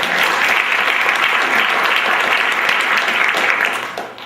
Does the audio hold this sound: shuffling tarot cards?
no